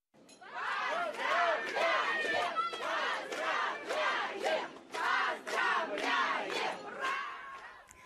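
A large crowd at Sheremetyevo airport welcomes gymnasts home from the European Championships in Guadalajara, Spain, chanting and cheering loudly in rhythmic, voice-filled bursts, close and sustained.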